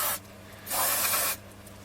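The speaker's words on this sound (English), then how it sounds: "we'll spray a tiny bit just on the bits that need to go in" Switch cleaner aerosol sprayed onto a Freeplay radio: a short hiss, then a longer steady burst of spray about half a second long, close and fairly quiet.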